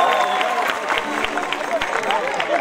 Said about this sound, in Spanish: Brindémosle un fuerte aplauso a Paola.